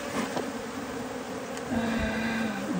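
A swarm of honey bees drones continuously near the hive during a Zimbabwe honey harvest, the buzzing loud and sustained for a few seconds, with a few faint clicks and a brief low thump.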